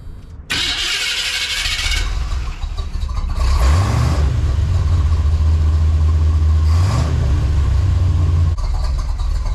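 A 1984 Chevy Silverado with a swapped-in 350 V8 cranks and fires up, then settles into a loud, steady idle with a rev partway through, heard up close with no talking.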